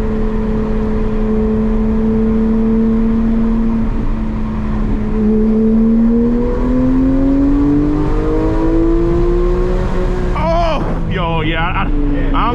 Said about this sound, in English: Yo, this thing drives good,